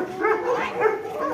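Dogs give low, whining barks and yips, a few overlapping calls close by, heard alone without talk.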